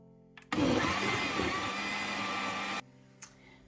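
A kitchen blender whirs at full power for about two seconds, blending crushed condiments with water for a meat kondrè, starting abruptly and cutting off just as suddenly, with a faint click afterward.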